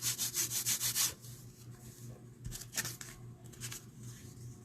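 Felt-textured cardstock for paper crafting is rubbed in quick repeated strokes, loud at first and then softer with scattered brushing, with no talking.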